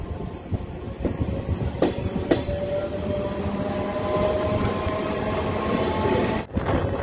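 An Asansol to Purulia passenger train rumbles steadily along the rails with rhythmic clicks and clunks of the wheels, a low constant roar filling the whole stretch.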